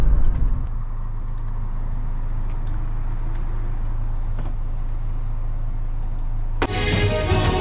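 A truck driving on the road with a steady low engine and road rumble inside the cab, loud and continuous, with a sudden bright rattling burst near the end.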